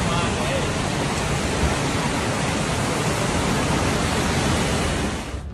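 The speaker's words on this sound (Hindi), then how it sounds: "सड़कों पर सैलाब बह रहा है।" Floodwater rushes through the streets of Junagadh, Gujarat, as a dense, constant roar that stays loud and unbroken, then drops away abruptly at the end.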